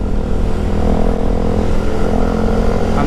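Motorcycle engine droning continuously on a long solo ride along a service road on Panay Island, loud steady hum mixed with wind rush, no talk.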